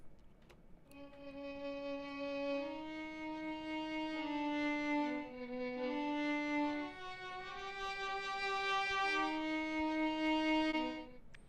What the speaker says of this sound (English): The raw violin sample sounds like this.